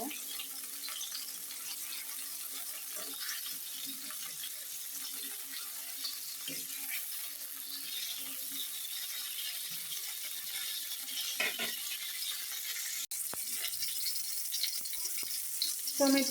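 Eggplant pieces frying in a pan of oil for a homemade eggplant and tomato mash, giving a steady, close sizzling hiss that runs throughout with a few small clicks and pops.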